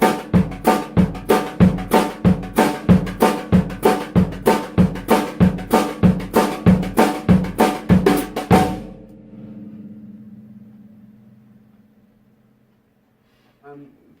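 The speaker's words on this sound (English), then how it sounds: "First component of this is playing eighth notes on the snare drum with an accent on the 2 and the 4" Snare drum train-beat groove played solo: steady eighth notes with accents on two and four, a fast, even chugging pulse for about nine seconds, then ringing decay and near silence.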